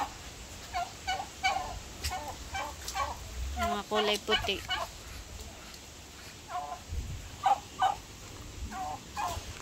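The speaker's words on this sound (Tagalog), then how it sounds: "Tama na kaya ayan, dami pong pabo." Repeated turkey gobbles and fowl calls in bursts throughout, with a brief spoken remark partway through and steady outdoor background noise.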